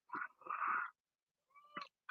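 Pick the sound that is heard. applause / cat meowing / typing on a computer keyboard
cat meowing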